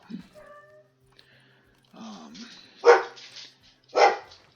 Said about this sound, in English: My dogs are very vocal and love to bark all the time.